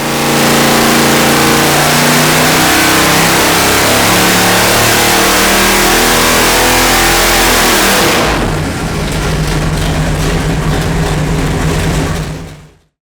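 A rebuilt 454 V8 engine on a dyno pull revs hard and loud, holding a rising, roaring tone for about eight seconds, then drops back to a lower, steadier run before cutting off abruptly.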